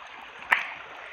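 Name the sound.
waterfall flowing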